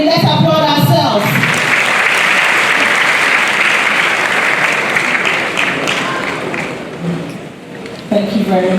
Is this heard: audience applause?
yes